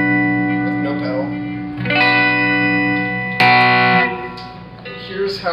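A clean electric guitar, played with no pedal through a Bugera V22 amp, rings out sustained strummed chords and picked notes, close and fairly loud, with long decays and no voice over it.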